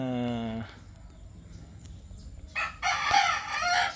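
Rooster crowing in a backyard flock of fowl in Batangas, one long harmonic crow at the start, then another bird's loud raspy crowing and clucking near the end, close by over faint background noise.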